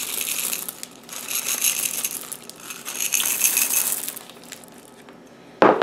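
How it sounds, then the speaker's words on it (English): About half a cup of M&M candies pours into a plastic bag, a close, bright rattling clatter of hard-shelled pieces that comes in bursts, eases off, then ends with a louder rustle of the bag. "go ahead and add about 1/2 cup of M&Ms per bag."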